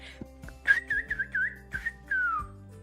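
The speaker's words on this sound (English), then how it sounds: "I used to call my dogs, my childhood dogs, by this specific whistle" A person whistles a dog-calling whistle: a few short melodic chirps, then a longer gliding note that falls in pitch at the end, close and clear over a low steady background hum.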